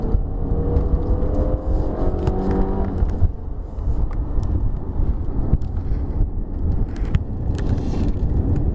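A 2019 Hyundai Santa Fe with a 2.4 liter petrol engine and front-wheel drive, heard from inside while driving, a steady low engine and road drone with a brief rising rev near the start.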